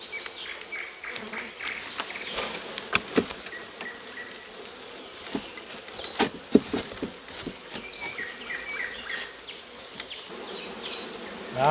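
Honeybees from a first swarm buzz around a new hive: a dense, continuous drone with many insects close by and occasional sharp zips as individuals pass near.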